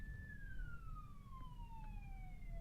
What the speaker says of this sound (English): I hear sirens outside.